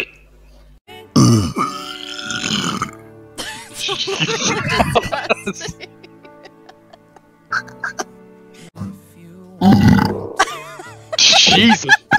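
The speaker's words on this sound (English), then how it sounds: "That just sounded like you burped into a toilet." Loud, close burps repeat in throaty bursts across the stretch, with quieter gaps and clicking noises between them.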